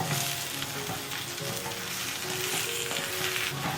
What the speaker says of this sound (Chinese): 加入萝卜翻炒。